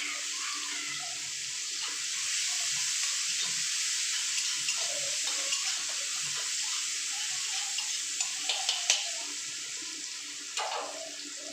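Onion and black cumin frying in hot oil, a steady bright sizzle close up with occasional faint stirring clicks and pops, no talking.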